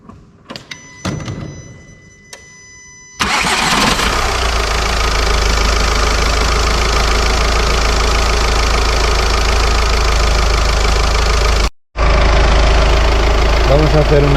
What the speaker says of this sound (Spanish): Os dejamos en esta toma para que podáis ver cómo arranca.